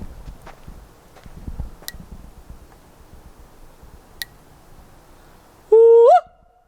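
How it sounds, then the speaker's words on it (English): Footsteps crunch softly through dark woods at night, then a bird lets out a single loud, abrupt, rising call lasting about half a second, close by and clear above the quiet. "That was a bird."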